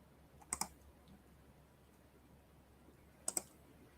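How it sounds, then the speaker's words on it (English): A computer mouse gives two quick double clicks a few seconds apart, faint and close against a quiet room hum. "I'm clicking on the chat"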